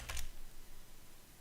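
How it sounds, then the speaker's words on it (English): A short burst of keystrokes on a computer keyboard, a few quick soft clicks at the start followed by faint room noise. "I don't know what am I typing today."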